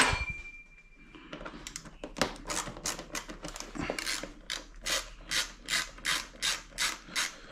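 Fairing bolt on a 2008-2012 Suzuki Hayabusa being unscrewed with a ratchet, a steady run of crisp, close clicking pulses that grows into an even, regular rhythm after a few scattered scrapes and knocks.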